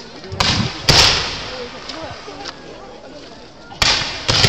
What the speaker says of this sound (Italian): Ancora i fuochi d'artificio di Paola Nanna